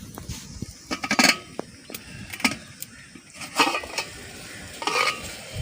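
Jaggery syrup cooks in a pot over a wood stove, with soft bubbling under frequent scraping and clinking of a stirring utensil against the metal in uneven bursts, close and fairly loud.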